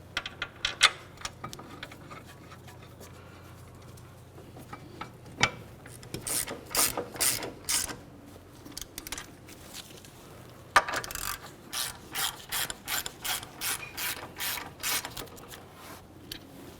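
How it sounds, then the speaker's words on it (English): Ratchet clicking in quick rasping bursts as caliper bracket bolts are snugged on a 2009-2010 Pontiac Vibe front brake, with a few metallic knocks early and dense repeated ratcheting strokes in the second half. "We'll start in both of our caliper bracket bolts, snug them up, and then torque them to 79 foot-pounds."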